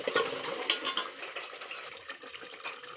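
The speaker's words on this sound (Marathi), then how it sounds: "पेस्ट घातल्यावर थोडा डवलून घेऊ आणि छान पेस्टला शिजू" Masala paste for a homestyle chicken curry frying and being stirred in a pan, a steady hiss with scraping spoon clicks throughout, fairly close and fading slightly toward the end.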